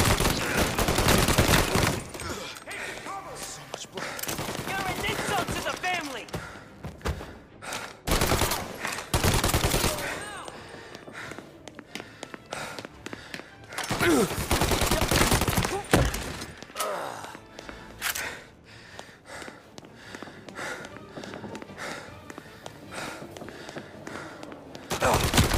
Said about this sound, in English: Lucky shot, Tom.